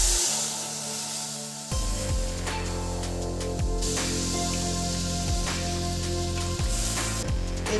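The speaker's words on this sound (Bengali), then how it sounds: "ওটা আমার হয়ে এসেছে, এবার আমি এটা আস্তে আস্তে এর মধ্যে ঢেলে দিচ্ছি।" Tamarind pulp poured slowly into a hot tempering in a pan, giving a steady spraying hiss and sizzle that stays loud and continuous throughout, with low rumbling and no talking.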